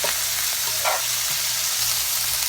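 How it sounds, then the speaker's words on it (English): Shrimp sizzles and fries in a pot on the stove, a steady close hiss of hot oil with a brief louder crackle partway through, no talking. "Once I add my shrimp to the pot, get those cooking."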